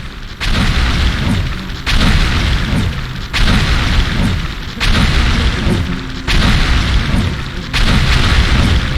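Explosions tear apart a creature nest in The Riftbreaker, a steady run of heavy booming blasts, one after another, loud and close for the whole stretch.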